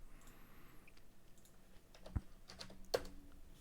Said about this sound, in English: I can just type those in.